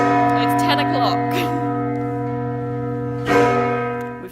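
Church bells ring from inside the Strasbourg cathedral bell tower, a loud sustained chord of overlapping tones with long ringing decay, while voices chatter nearby underneath.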